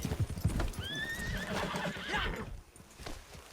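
Horses in Red Dead whinny loudly over the clip-clop of hooves, with a couple of hoof strikes up front, then a long rising neigh and snorts trailing off; no speech.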